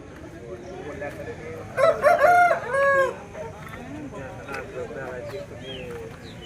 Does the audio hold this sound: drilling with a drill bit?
no